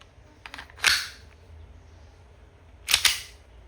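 Umarex M9A3 full-metal CO2 airgun pistol firing 4.5mm steel BBs: two sharp, loud snapping shots about two seconds apart, each a crisp crack with a short tail, over a quiet background.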